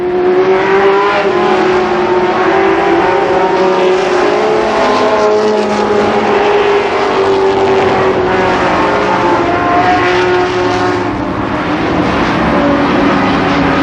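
Race cars at Columbus Motor Speedway in 1991 battling down the back straightaway, a loud continuous roar of several engines with overlapping rising and falling pitches, close and sustained with no talk.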